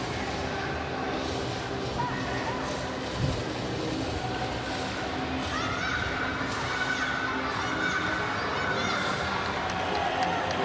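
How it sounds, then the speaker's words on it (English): Teammates cheer and shout from behind at a taijiquan session of the 17th World Wushu Championships, faint and distant under a steady hall crowd murmur, with a voice talking over it. "Can hear some of her teammates cheering behind us."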